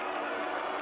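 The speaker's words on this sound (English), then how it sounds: "the crowd don't like the call at all" Spectators at the Belgium vs United States open final of the 2023 U-24 World Championships voice disapproval of a referee's call, a brief, steady, dense roar of crowd noise with no clear gaps.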